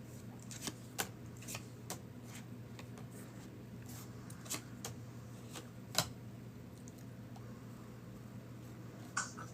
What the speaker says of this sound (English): Let's pull some cards for Dee.